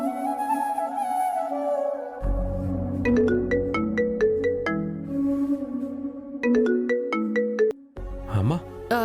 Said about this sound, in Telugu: ఇప్పుడే విహారీకి ఫోన్ చేస్తాను